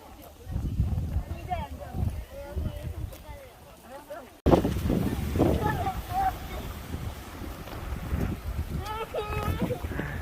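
Strong wind buffets the microphone at a small holiday house on Jeju Island, making a rough, low rumble that rises and falls as people talk and laugh over it.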